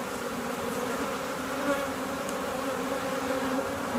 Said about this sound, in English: we got bees everywhere, huh?